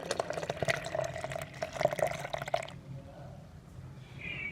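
Milk poured into a blender jar over blended bananas for a banana milkshake, a close liquid splashing and gurgling stream for about two and a half seconds before it stops and quiet room noise remains.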